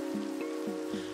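Rain in the block-building game Minecraft, a steady soft patter over an ambient tone with a few brief splashy accents.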